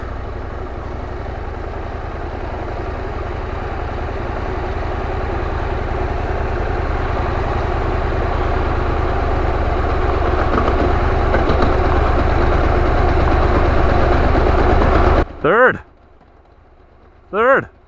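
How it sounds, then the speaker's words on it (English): An adventure motorcycle engine lugs and chugs in low gear during off-road training. A loud, steady low drone runs for about fifteen seconds, then cuts off abruptly, leaving brief faint chirps. "It's not dead yet. Definitely lugging though. It doesn't like it."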